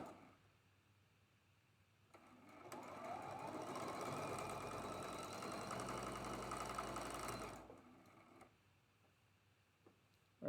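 A sewing machine runs for about five seconds joining quilt blocks, a steady mechanical whir with fine ticking that starts and stops cleanly amid quiet room tone.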